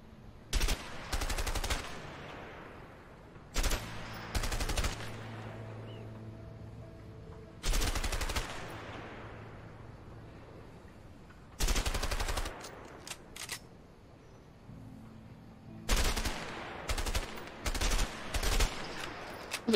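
Gunshots at a shooting range in the video game A Way Out, loud single shots and quick bursts spaced apart with quiet gaps between them, each followed by a short fading echo.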